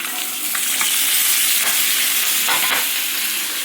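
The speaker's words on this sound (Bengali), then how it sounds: "হচ্ছে মাছ ভাজা" Fish frying in hot oil, a loud bright continuous sizzle with a few crackling spits and pops, close up and alone without voices.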